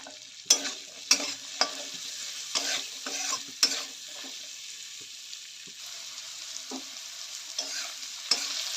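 For a helencha greens dish, potato pieces with salt and turmeric fry gently in a pan, giving a faint, low sizzle punctuated by sharp spatula scrapes and taps at irregular intervals.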